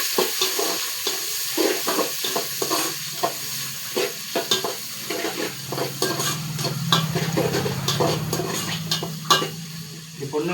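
Chopped onions sautéing in oil in a pan for chicken curry, a steady sizzle broken by frequent scraping stirs of a spoon, close and moderately quiet.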